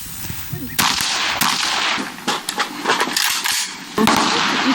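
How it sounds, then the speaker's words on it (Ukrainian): Rapid bursts of gunfire and sharp blasts at a military training range, some clustered, others spaced, loud and close in an open outdoor setting. "Стрільба, вибухи, дим та галас на полігоні."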